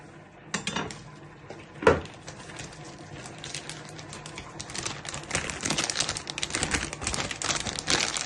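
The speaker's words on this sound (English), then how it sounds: "you're just going to grate your cheese up and down" Cheese rubbed up and down a sharp metal grater, giving a run of scratchy, rasping strokes with a couple of clinks against the grater. The sound is close and moderately loud with no voices.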